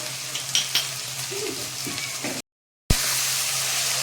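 Steady sizzling of spices, including chilli powder, with a little sugar frying in a pan, light scraping of a stirring spoon, a brief silent gap, then the sizzle resumes loudly.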